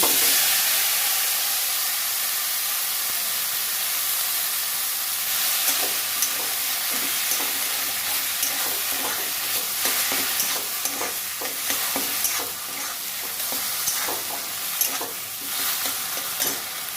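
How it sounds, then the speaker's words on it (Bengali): Paneer sizzling and being stirred in ghee in a pan for kancha golla sandesh, a steady loud frying hiss with repeated scraping strokes of the spoon through the second half. "এক চামচ ঘি দেব পনিরটা দিয়ে দেবো"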